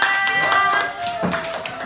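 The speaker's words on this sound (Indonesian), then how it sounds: "Iya, tepuk tangannya." Children clap their hands in a classroom lesson, a short burst of scattered taps with a voice heard alongside.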